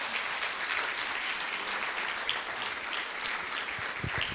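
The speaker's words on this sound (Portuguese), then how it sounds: "Uma salva de palmas para Jesus." A church congregation applauds during a worship service, a steady wash of clapping from many hands, moderately distant and fairly even throughout.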